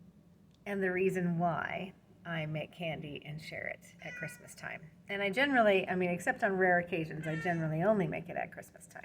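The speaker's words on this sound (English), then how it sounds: "So if you can hear my cat, sorry, he thinks he wants to go outside" Pet cat meowing repeatedly to be let outside, several drawn-out meows mixed in with someone talking steadily about homemade Christmas candy.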